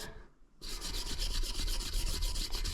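A valve is lapped into a Ford 460 cylinder head with steady, rhythmic rasping strokes of grinding compound, close and continuous with no talk.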